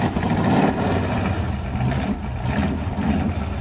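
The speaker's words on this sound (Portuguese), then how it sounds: "vamos enfiar aqui a chavinha e dar a partida e dar um rolê" A Ford V8 hot rod engine rumbles loud and close, revving in deep swells that rise and fall several times over a rough, throaty idle.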